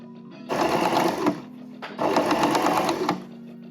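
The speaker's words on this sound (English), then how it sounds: "In order to secure this inside of the cuffs, we are going to do top stitch" A home sewing machine top-stitches the cuffs of a shirt in two loud, close bursts of rapid needle chatter separated by a short pause, over a low motor hum.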